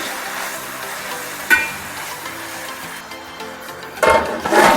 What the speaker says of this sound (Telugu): ఆనియన్స్ ఇలా చేంజ్ అయ్యాక కొత్తిమీర, కరివేపాకు, టమాటోస్ యాడ్ చేసుకొని ఒక 5 మినిట్స్ మగ్గించుకోవాలి